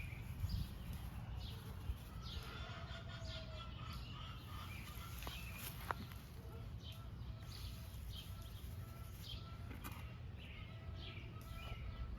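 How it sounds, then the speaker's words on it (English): Faint clucks and short calls from chickens scattered over a low steady background hum, distant and intermittent. "My chickens are fussing because I'm out here and not giving them a treat."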